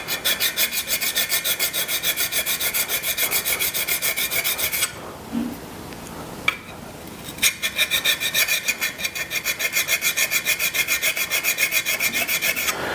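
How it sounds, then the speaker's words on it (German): Flat woodturning chisel honed on a sharpening plate: steady, rhythmic back-and-forth rasping strokes, close and loud, broken by a short pause near the middle before the rubbing resumes. "dann kannst du auch den Meißel mit der Schleifplatte abziehen."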